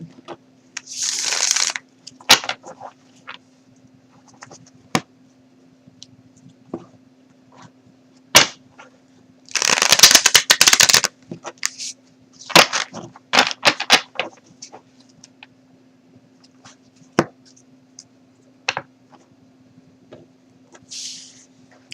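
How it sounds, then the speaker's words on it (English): Intermittent riffling and slapping of playing cards being shuffled, in uneven bursts with quiet gaps and a faint steady hum beneath. "I'm having trouble shuffling, excuse me."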